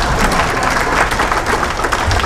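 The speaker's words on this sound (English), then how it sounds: "So give Bruce a round of applause." A crowd at a veterans' dinner social in North Reading, Massachusetts applauds in a steady, dense wash of clapping that stays loud and even for the whole stretch, with no voices standing out.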